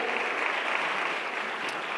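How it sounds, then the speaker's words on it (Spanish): Church congregation applauding in worship, a dense, steady roar of many hands clapping close and loud throughout, with no talk over it. "¿Cuántos le dan un aplauso al Señor?"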